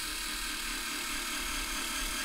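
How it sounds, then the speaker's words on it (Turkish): The high, steady whine of a Worx WX240 cordless screwdriver drilling a new hole in wood runs continuously and close throughout the short stretch, with no talking. "Şimdi delmeyi deneyelim. Bu eski delikler. Şuradan yeni bir delik açacağım."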